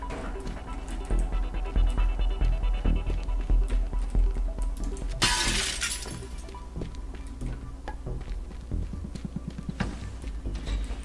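Glass shatters in the video game Teardown with a bright, sharp crash midway, followed by scattered tinkling debris and clattering, set over steady game background noise; no talking.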